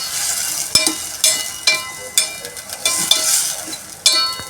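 A spoon stirs sev tomato sabzi in a pan after sugar, jaggery and salt are added, giving a steady sizzle broken by regular sharp scrapes and taps against the metal, close and fairly loud.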